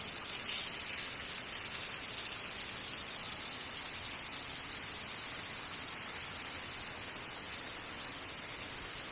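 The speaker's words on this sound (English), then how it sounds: "Just a heavy downpour." Steady, dense hiss of heavy rain pouring down in Stark County, Ohio, constant and unbroken throughout, with no voices.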